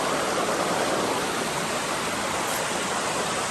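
Constant broadband rushing of flowing water, loud and close, steady throughout with no voices.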